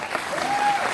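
A short burst of audience clapping at a motivational talk, dense and steady for about a second, with a faint whistle-like tone over it.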